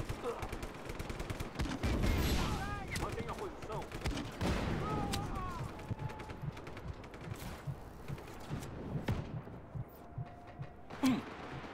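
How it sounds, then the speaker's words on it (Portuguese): Gunfire in the video game Just Cause 3, scattered shots and bursts popping throughout, some sharp and close, others distant, under a player talking. "mas de onde tá vendo esses tiros?"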